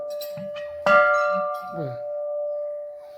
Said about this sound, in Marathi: अशी ही घंटा आहे बघा